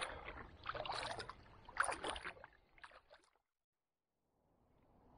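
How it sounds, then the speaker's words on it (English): Kayak paddling on Loch Ard in the morning: close splashing and dripping strokes for about three seconds, then near silence before soft water movement resumes faintly. "Let's get on with the paddling."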